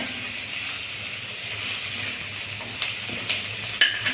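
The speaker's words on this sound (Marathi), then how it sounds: "आता आपण शिमला मिरची घालत आहोत. शिमला मिरची पण छान परतून घेणे." Bell pepper (capsicum) sautés in a pan while semolina and sweet corn upma is being cooked. A steady hiss and sizzle runs throughout, and a few brief scrapes of stirring come toward the end.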